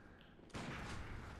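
A single gunshot in the Bloodborne video game bursts in after a quiet half second, then carries a sustained loud roar and rumble through to the end.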